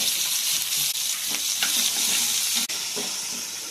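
Tomatoes fry in hot oil in a pan for ginger chutney, a loud, steady sizzle up close, broken by a few sharp clicks of stirring.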